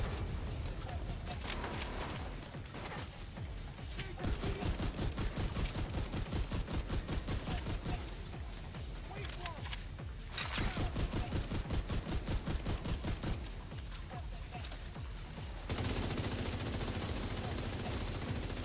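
Automatic gunfire in The Division 2, rapid sustained bursts with short pauses between them, loud and close, running under occasional game voice lines.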